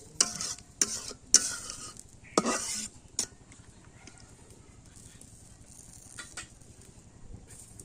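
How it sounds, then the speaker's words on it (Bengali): Spice paste mixed with mustard paste and water sautéed in a pan for a hilsa fish curry: a spatula scrapes and clinks against the pan several times at first, then a steady, soft, close sizzle continues with no talk. "পানি দিয়ে মশলাটা ভালো করে একটু কষাই আমি"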